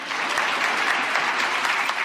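Audience applause at a political talk, a steady dense wash of many hands clapping close and loud throughout with no break, and no voices over it.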